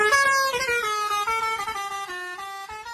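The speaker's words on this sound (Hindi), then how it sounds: "वहीं जब ये तुमसे दूर जाती है तो हॉर्न की आवाज लो पिच में बदल जाती है, कुछ ऐसे।" A loud car horn blares continuously, its pitch sliding steadily lower from the Doppler effect as the car passes and moves away, with faint rumble underneath.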